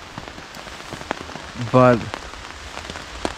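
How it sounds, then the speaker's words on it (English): Heavy rain drums steadily on a tent during solo wilderness camping, a dense close patter throughout, with a brief voice heard partway through. "Now it's really raining hard"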